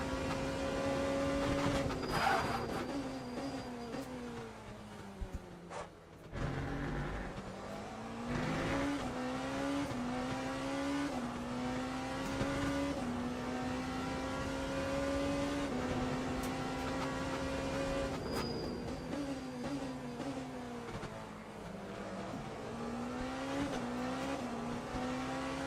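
Race cars lapping a circuit during a WEC race, with a Ford Mustang among them: a steady engine drone with rising and falling revs, gear shifts and cars passing close by.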